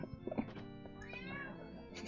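A house cat meows nearby, a short chirp followed by a drawn-out, rising and falling meow, fairly quiet, with faint background hum and no talking.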